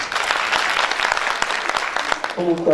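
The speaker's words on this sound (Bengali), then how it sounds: "যশোর থেকে আগত এই টিমের জন্য আমরা একটা ছোট্ট করতালি দিতে পারি" Brief applause for a visiting theatre team from Jessore at a stage drama event, a steady patter of many hands clapping close by, with a voice or tone entering near the end.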